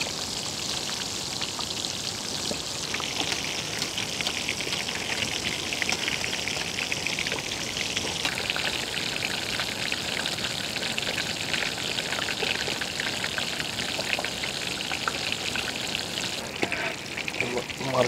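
Karimeen (pearl spot) fish shallow-frying in a pan in a village kitchen, a dense, steady sizzle and crackle of hot oil that runs unbroken from start to finish with no talk.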